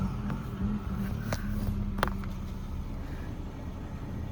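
A Citroën DS3's engine, started with the clutch pressed, settles into a low steady idle heard from inside the car, with a few faint clicks and beeps from the dashboard above it.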